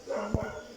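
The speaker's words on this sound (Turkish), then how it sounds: "o bizim köpek havlayan" A dog barks twice in quick succession, fairly close, against a steady background hum.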